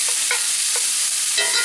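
Ground pork browns in a skillet with a loud, dense, continuous sizzle, broken by a few light taps and scrapes of stirring, close up and without talk.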